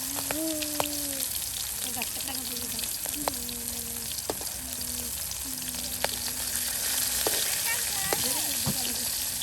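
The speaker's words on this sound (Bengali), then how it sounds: "হ্যাঁ, মাছ ভাজার মতো মসমসে ভেজে নেওয়া হবে।" Fish crackles and sizzles steadily as it fries crisp in hot oil, a continuous close hiss with faint voices and tonal sounds in the background.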